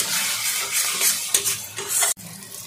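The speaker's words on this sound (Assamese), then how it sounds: "এইখিনি মই 5 মিনিটমান ভাজি ল'ম" Eggplant masala fries loudly in a pan while a spoon stirs it, making a dense, continuous sizzle broken by scraping strokes, until it cuts off abruptly near the end.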